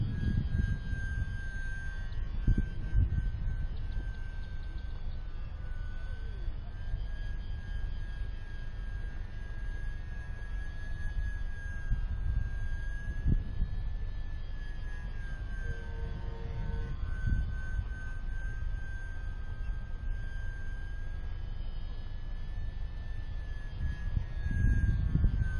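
A small E-Flite UMX Pitts S-1S electric RC model airplane flies at half throttle, giving a thin, steady motor whine that drifts gently in pitch against constant outdoor wind noise.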